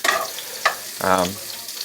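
Chicken sizzles and crackles in a hot frying pan as it browns, with a short burst of stirring or scraping partway through; no talking.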